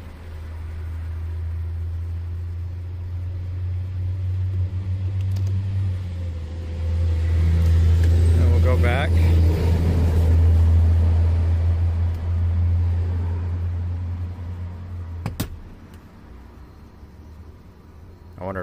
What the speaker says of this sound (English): Sorry about the noise, I'm right next to a highway.